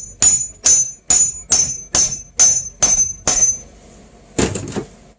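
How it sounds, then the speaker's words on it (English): A hammer drives a part into place through a 1-inch impact socket: eight sharp, ringing metallic blows at an even pace, followed by a pause and a final clattering knock. "So now we just hammer it in."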